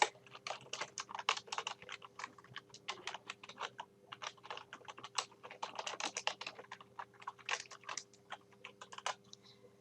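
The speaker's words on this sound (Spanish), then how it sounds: "con las flechas del teclado yo puedo ir bajando y cargando la información" Rapid, close clicking of typing on a computer keyboard runs steadily for about ten seconds, with dense bursts of keystrokes and brief pauses, no talking over it.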